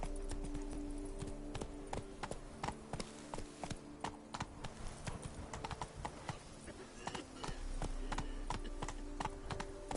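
Roach the horse clip-clopping along in The Witcher 3, a brisk, continuous run of hoof strikes up close, steady and even over a low ambient bed, with no talking.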